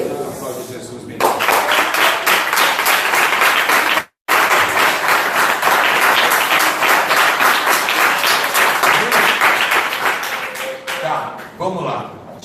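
Church congregation applauding during a Sunday school Bible teaching, loud close rhythmic clapping from many hands that starts abruptly, breaks for a moment, then continues before fading as a voice speaks near the end.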